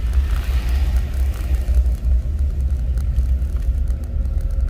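A Jeep Grand Cherokee WJ with its stock exhaust drives along, giving a steady low engine rumble and road drone that stays loud and even throughout with no pauses.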